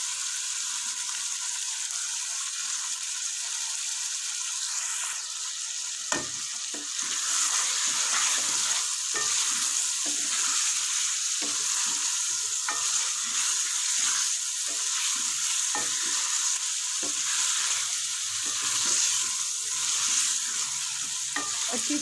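Chicken fries with garlic ginger paste for a white karahi, giving a continuous close sizzle broken by frequent scraping stir strokes from a spoon in the pan.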